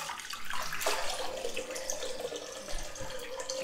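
Water runs steadily from a bathroom tap while shaving soap is rinsed away, a continuous close splashing rush with slight variations in flow.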